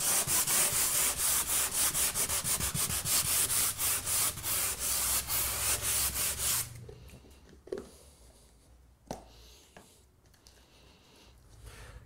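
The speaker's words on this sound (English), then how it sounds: "The first step is to sand the area around it to improve the adhesion between the GIB compound and the painted surface." Sanding a painted GIB plasterboard wall around a scratch before patching with compound: steady, close, rhythmic rasping strokes for about seven seconds, then quiet with a few faint knocks and handling sounds.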